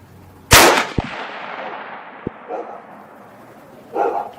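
A single sharp, loud .338 Win Mag rifle shot cracks outdoors and echoes away, followed by a couple of faint clicks and brief murmurs of voices.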